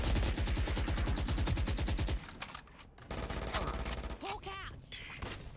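Sustained rapid automatic gunfire in the shooter Valorant, a loud, dense burst of evenly spaced shots that stops abruptly, followed by scattered game effects and faint voice-like sounds.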